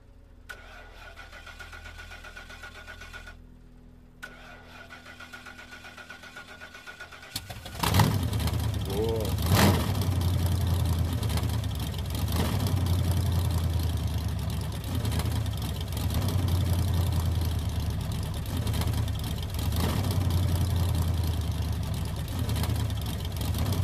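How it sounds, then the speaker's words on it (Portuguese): In the PC game Drema, a car engine cranks and catches after a quiet opening, then settles into a loud, steady idle that rumbles on to the end. "Então vamos andar de carro."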